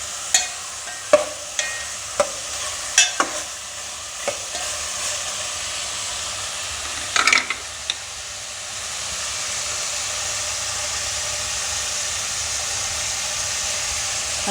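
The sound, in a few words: meat sautéing with onions in a pan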